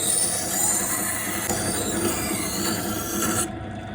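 A knife blade scrapes across the stone of a Lansky sharpener in a steady, close, rasping grind that holds at an even level before stopping abruptly.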